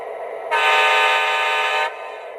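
An SD40 locomotive horn from a model train sound set gives a single loud, steady blast of about one and a half seconds, starting abruptly and cutting off cleanly over a faint background hum.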